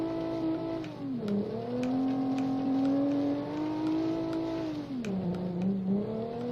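Simulated car engine in BeamNG.Drive, a rear-drive car on a gravel Pikes Peak hillclimb, revving loudly and steadily with repeated pitch drops as it shifts gears, rising again between shifts, close and continuous with no talk.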